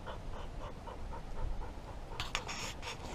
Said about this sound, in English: We're going to see if we can find some water for this dying pup.